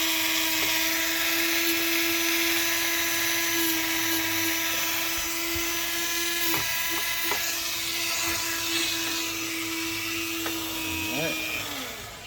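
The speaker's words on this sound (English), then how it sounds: "And I'll turn on my dust collector" A dust collector runs during foam sanding with a loud, steady motor whine and a constant high hum, while a voice talks over it and brief clicks sound near the end.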